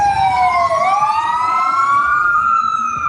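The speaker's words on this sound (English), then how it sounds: "you can hear the sirens" A loud wailing siren sweeps steadily up and down in pitch, continuous and close, with a low rumble of traffic beneath it.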